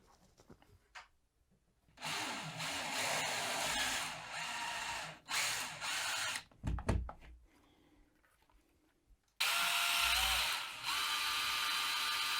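A power drill bores holes for roof lantern blind rail profiles, several loud bursts of whirring separated by short pauses and a few knocks, ending with a sustained higher-pitched run.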